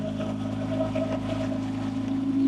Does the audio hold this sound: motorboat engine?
yes